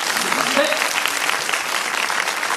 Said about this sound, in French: normalement le public applaudit très très fort.